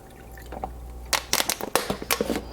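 Water splashes and glugs into a vegan cabbage and sausage stew in a pot, in short irregular bursts over a low background hum.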